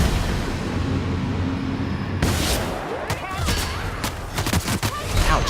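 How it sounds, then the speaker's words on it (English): Gunfire breaks out in The Outer Worlds: after a steadier stretch of background noise, a cluster of sharp, close shots and crackling bursts erupts, with scattered voices mixed in. "Ouch, I am getting shot by somebody"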